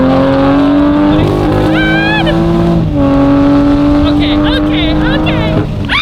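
A 2020 Toyota Supra with a bypass muffler exhaust revs loudly up close, its droning engine note holding, dipping and climbing again in repeated throttle blips.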